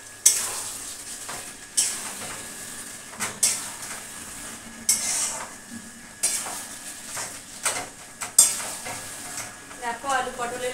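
Potato and pointed gourd stir-fried in a pan, with a steady sizzle broken by repeated scraping and clinking of a spatula against the pan at irregular intervals, close and fairly loud, no talking.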